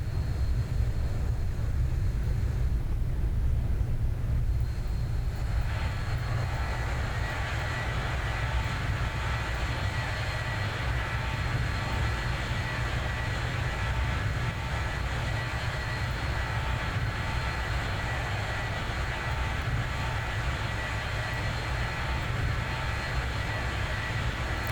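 Zibo mod Boeing 737 on approach for landing in the X-Plane 11 flight simulator, a steady continuous jet engine and cockpit hum at even level, with no voices over it.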